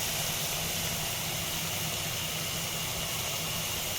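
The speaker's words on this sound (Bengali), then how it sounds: "ঝুড়ি আলু ভাজা হচ্ছে।" Thin jhuri potato sticks, soaked in cold water and drained, deep-fry in hot oil, giving a loud, steady, dense sizzle that runs unbroken from start to finish.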